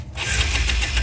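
A motorbike engine catches and runs with a steady low rumble after a brief quiet start, close and fairly loud throughout the short burst.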